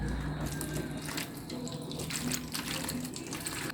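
Tap water running steadily from a faucet into a container to soak tomato and cucumber seeds for hydroponic germination, a continuous close splashing flow with no talk over it.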